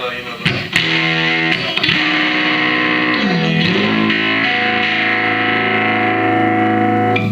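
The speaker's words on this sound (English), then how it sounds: "I'll be able to get that drive tone at a more volume like this" A distorted electric guitar through an overdriven amp with an attenuator rings out with gritty chords and a bend, sustaining loudly and steadily with no talking.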